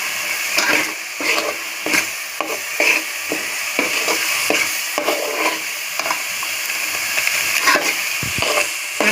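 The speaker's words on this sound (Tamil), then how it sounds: "இந்த 50 குழம்பு தூள் போட்டு அதை அப்படியே அந்த எண்ணெயிலே கொஞ்சம் ஒரு 2 நிமிஷம் அப்படியே வெந்து வரட்டும்." Curry masala powder frying in oil in a pan, a steady close sizzle with repeated scraping stirs of a spoon, no talk.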